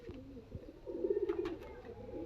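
A prized pigeon at a breeder's home gives one soft, drawn-out coo close by, with faint chirps and quiet room noise around it.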